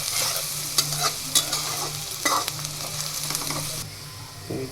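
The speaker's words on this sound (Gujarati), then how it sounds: "જે ડુંગળી સુધારી છે તેને એડ કરી દઈશું. હવે ડુંગળીને આપણે થોડી વાર માટે ચડવા દેશું" Chopped onion fries in hot oil in a pan, giving a continuous close sizzle punctuated by sharp clinks and scrapes as it is stirred, with no talking.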